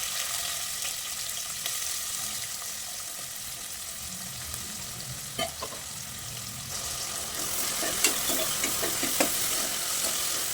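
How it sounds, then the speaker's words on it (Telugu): Onion frying in hot oil with cumin, cinnamon, cloves, cardamom and four dried red chillies for a paneer masala curry, a steady close sizzle running throughout with occasional spoon stirs and scrapes. "బాగా రెడ్గా ఫ్రై అయిపోవాలి ఇది ఆనియన్"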